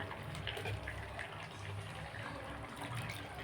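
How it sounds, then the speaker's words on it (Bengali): Hot water poured into a chicken curry with potatoes in a pot, a soft steady gush and splash, fairly quiet and close, with no speech. "দেখুন আমি এই যে জলটা দিচ্ছি"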